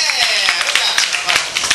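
Audience at a live comedy show claps and cheers, a dense, loud burst of many hands with some voices mixed in, lasting under two seconds.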